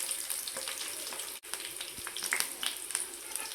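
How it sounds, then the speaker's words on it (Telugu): Curry leaves crackle and sizzle in hot oil in a pan, a dense, close, steady frying hiss with small pops throughout, briefly dropping out once, no voices. "ఆయిల్లో వేసుకొని ఫ్రై చేసుకోవాలి."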